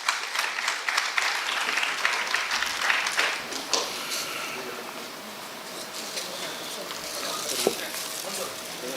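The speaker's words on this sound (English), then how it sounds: "Let us give them a big round of applause." Audience applause at a job fair, steady broadband clapping that is moderately loud and continuous, gradually thinning out toward the end with a few louder individual claps.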